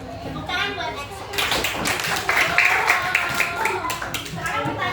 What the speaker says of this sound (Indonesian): Tepuk tangan buat Excel.